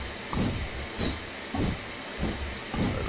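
A train locomotive in a train simulator video game powers up, giving a steady hissing rumble with rhythmic surging chuffs roughly every second, fairly loud with no talk over it.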